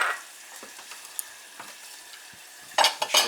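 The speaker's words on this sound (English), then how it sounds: "Alright, you can let that simmer for a little bit" Sauce for Shanghai-style bok choy sits simmering in a pan with a soft, quiet sizzle, broken by a few faint clicks and taps and a louder burst of stirring or pan clatter near the end.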